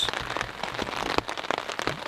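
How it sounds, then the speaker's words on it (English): Steady, solid rain falling on a tent at night during a calm, windless camping trip, a dense continuous patter with scattered louder drops, close and even throughout. "It's been raining all night long since roughly 11 p.m. It's a good solid rain."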